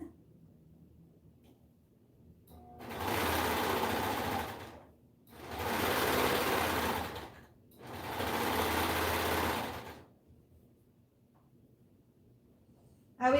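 A sewing machine stitches large fabric items for Etsy orders in three separate bursts of rapid, even whirring, each a couple of seconds long with quiet gaps between them, close and clear with no talking over it.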